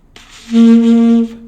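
A short, thin saxophone tone played with too little mouthpiece so the reed barely vibrates, with a stiff, buzzy edge, held steady for under a second after a brief breathy attack.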